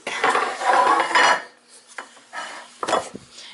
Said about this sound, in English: he's sticking his muffin pan underneath